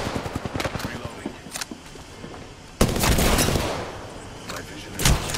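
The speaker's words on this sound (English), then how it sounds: "One is firing at us" Gunfire in an Apex Legends-style battle game played as Caustic, quick popping shots followed by a heavy sustained burst of fire and a later crack.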